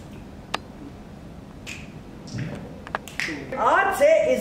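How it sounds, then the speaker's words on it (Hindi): One sharp, close finger snap lands early, then a few lighter clicks follow. Voices and a rising musical swell build toward the end and carry the snap off. "हम चुटकी बजा दे"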